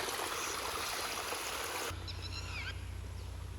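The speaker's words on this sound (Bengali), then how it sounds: "পাহাড় থেকে পানি নামতেছে।" Steady rushing water streams down from the hills after rain, a full broadband roar that thins partway through to a softer trickle with faint bird calls.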